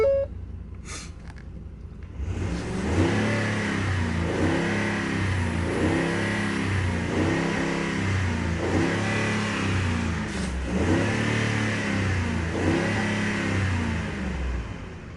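A 2010 Ford F-150 Platinum pickup's engine cranks and catches, then idles loudly up close while being revved in a steady series of rising and falling surges with no one talking.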